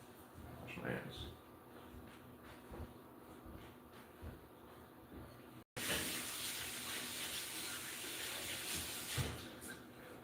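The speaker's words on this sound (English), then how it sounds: "Wash my hands." A tap runs steadily into a sink during hand washing, a constant hiss of water with small splashes that grows louder partway through, close and faint under background noise.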